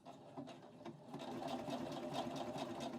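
A sewing machine stitches a narrow seam in jersey fabric, giving a quiet, even mechanical whir with rapid needle ticks that carries on without a break.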